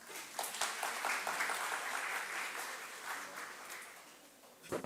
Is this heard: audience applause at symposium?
yes